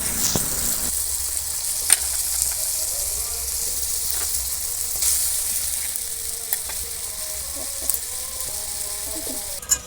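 Hilsa fish stirred in hot oil in a pan with a little water just added, giving a steady close sizzle and frying hiss with occasional clinks and scrapes of the stirring spoon.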